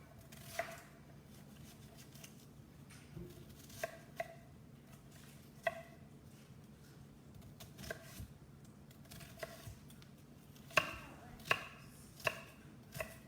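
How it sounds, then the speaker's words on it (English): A knife chopping an onion on a cutting board while a pan heats nearby, scattered single cuts and short quick bursts of chops over a low background hum, quiet and close. "let's go ahead and keep cutting this onion up while that pan heats up"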